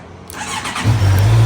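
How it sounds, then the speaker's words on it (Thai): A Honda CB650R motorcycle fires up with a brief starter whirr that catches into a steady, loud idle, close by with no talking. "มาสตาร์ทรถกันดีกว่า"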